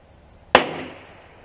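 A single sharp .357 revolver shot fired at a paper target on an indoor shooting range, loud and close, with a sudden crack followed by a decaying ring that fades over about a second.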